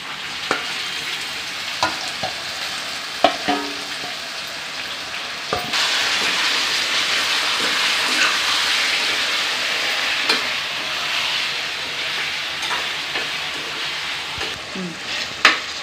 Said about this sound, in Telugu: దీన్ని పచ్చి వాసన పోయి మంచిగా ఫ్రై అయ్యే వరకు కొంచెం పెడదాం